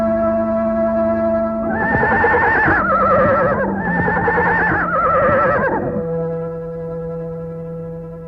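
A horse in a Turkmen audio drama gives a long, loud neigh with a wavering whinny in several rising and falling bursts over a steady droning musical background, with no talk during the call.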